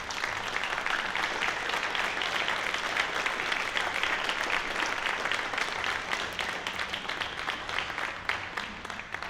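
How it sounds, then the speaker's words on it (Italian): Sustained applause from an audience at an Italian cycling celebration tied to the Giro del Friuli, a loud, even roar of many hands clapping for the whole stretch. "Un applauso ai frus della Libertas Ceresetta"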